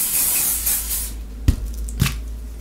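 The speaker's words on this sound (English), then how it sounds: "apply some hairspray to the root" Aerosol hairspray hisses onto the roots of lifted, parted hair, a close continuous spray over the first second, followed by two short soft bumps.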